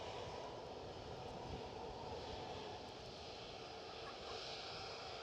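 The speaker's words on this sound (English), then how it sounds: "WestJet are just taking the runway." A WestJet airliner taxis onto the runway at Edinburgh Airport, its jet engines giving a steady, broad roar and whine that holds level throughout at moderate distance, with no voices.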